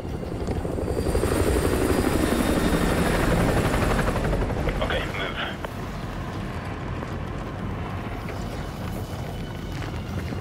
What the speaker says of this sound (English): Enemy helo, get out of sight.